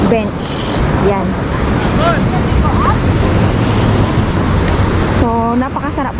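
Waves rolling onto a beach in Israel, a constant broad wash of surf and wind noise, with a person talking over it at the start and again near the end.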